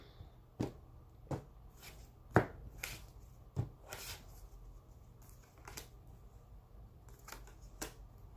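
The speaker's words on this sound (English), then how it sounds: "Then I'll do a cut." A shuffled tarot deck being cut and handled, with soft, separate papery taps and slaps scattered unevenly across a quiet room, no talking.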